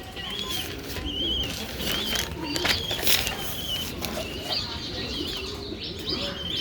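An agitated pigeon in a cage pecks and flaps its wings, giving bursts of rustling wingbeats and soft chirps and coos, close by and continuous.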